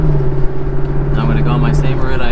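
2021 Lexus LC500 Convertible engine droning steadily from close by while cruising, under continuous talk from a man in the car.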